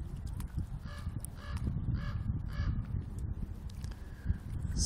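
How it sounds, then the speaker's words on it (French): A crow caws repeatedly in a Yosemite forest, five or six harsh calls in an even rhythm, moderately distant over steady low wind or ambient rumble. "à part le corbeau qu'on entend derrière."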